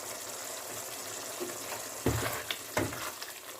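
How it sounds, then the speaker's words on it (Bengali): Pumpkin curry with spices and kasuri methi being stirred in a frying pan, a soft sizzle broken by two louder spatula scrapes near the end. "আরেকবার ভালো করে নেড়ে দিচ্ছি মশলাগুলো মিশিয়ে দেওয়ার পর"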